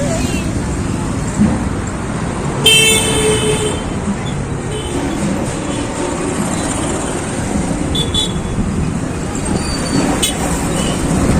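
Steady road traffic rumbles nearby, with vehicles continuously passing and a few brief higher engine or brake noises on top.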